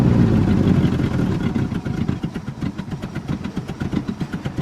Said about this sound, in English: It does idle, even at that low speed, surprisingly.